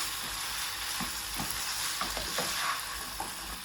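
Pizza sauce and ketchup are stirred together in a hot pan, giving a continuous soft sizzle with scraping spoon strokes and light clinks scattered through it, close by and without speech.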